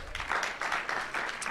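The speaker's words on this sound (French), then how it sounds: "Vous pouvez applaudir." Brief audience applause at a bilingual Swiss political debate on the self-determination initiative, welcoming a young party representative: steady, moderately loud clapping from a crowd throughout the short moment.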